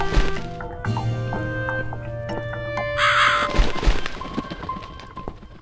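Crow cawing in The Cat Lady video game, several harsh caws ringing out over a tonal game soundscape with low sustained drones and scattered thuds, fairly loud and close.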